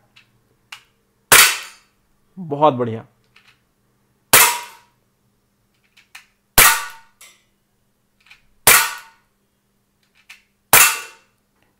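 Five sharp shots from a Sig Sauer X-Five ASP CO2 pellet pistol with blowback ring out one by one at irregular gaps against quiet, each a crisp crack, with a short spoken remark between the first two.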